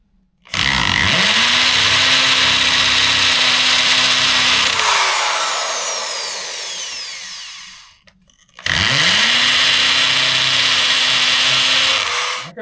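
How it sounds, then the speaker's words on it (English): A power drill whirs loudly and steadily for several seconds, winds down, then starts up again in a second sustained burst, close by with no talking. "I gotta be doing some drilling"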